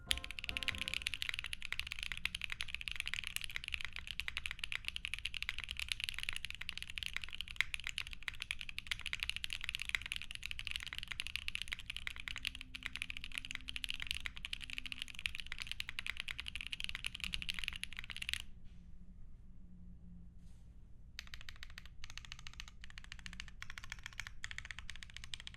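Close, steady typing on a Luminkey LK65 budget keyboard fitted with GMK Olivia Dark keycaps, a dense run of crisp keystrokes that pauses briefly near the end before scattered presses resume, with no talking.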